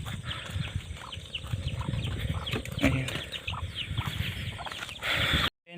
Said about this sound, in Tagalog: Ayan na guys yung iba nating manok.